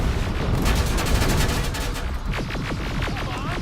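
Rockets firing and exploding in the video game Terminator Resistance, a dense barrage of rapid booming blasts and crackling impacts, loud and close, thinning into sharp repeated bursts toward the end.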